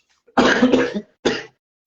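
Two close, loud coughs from a man with flu and fever: a longer, rough burst followed a moment later by a shorter one.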